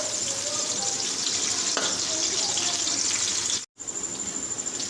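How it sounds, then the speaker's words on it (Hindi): Chopped onion sizzles in hot ghee for a dhaba-style mixed vegetable dish, a loud, dense, continuous frying hiss with a brief dropout near the end. "हम इसमें प्याज शामिल करेंगे, एक बड़े साइज का प्याज कटा हुआ शामिल करेंगे। इसे लाइट ब्राउन होने तक भूनेंगे"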